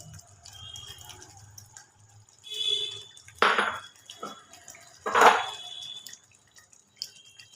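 Hot water is rinsed out of small spice bowls and poured into an egg rezala gravy. It comes as two separate splashy pours with dripping and faint bowl clinks between them, close by.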